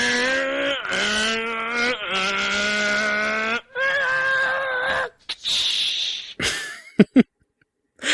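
A voice imitates a racing car engine, sustained droning revs with pitch shifts, ending in a few sharp squeals and pops.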